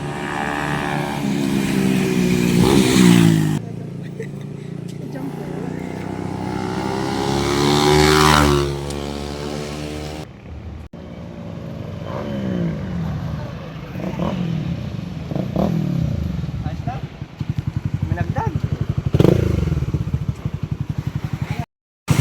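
A GTR Supra 150 motorcycle, its ECU newly remapped, revs up in loud repeated bursts close by with a rising and falling whine, while someone talks between and over the revs.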